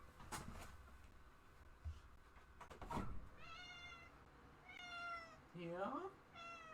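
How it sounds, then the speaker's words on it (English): A house cat meows repeatedly from behind a shut door, several drawn-out, slightly muffled cries in the second half, with a person talking quietly and some thumps earlier. "Can you hear my cat? Yes, she is trying to get my attention."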